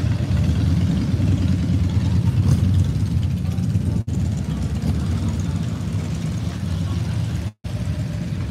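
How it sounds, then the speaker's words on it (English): Low rumbling motorcycle engines idle steadily nearby on a street in Tombstone, Arizona, a continuous throbbing drone outdoors with a couple of brief dropouts. "The motorcycles have arrived."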